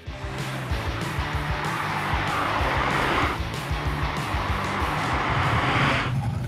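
A Volkswagen Corrado engine revs and pulls hard while driving on a Quebec road, with tires squealing and a gear change partway through, loud and close.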